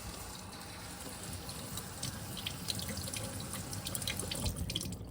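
Steady running water from a tap used while honing a Werner Breidenbach straight razor on a translucent Arkansas stone, a continuous close splashing flow with no voices.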